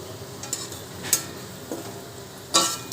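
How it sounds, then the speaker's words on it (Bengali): Onion fritters (peyaji) deep-frying in oil give a soft, continuous sizzle, broken by a few light clicks and scrapes from a utensil moving them in the pan. "এইগুলো ভাজা চলছে"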